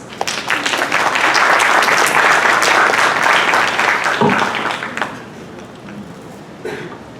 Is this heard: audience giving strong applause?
yes